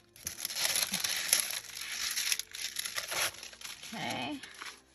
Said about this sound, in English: And then I have some noisy paper.